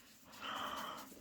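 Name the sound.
dog snorting and breathing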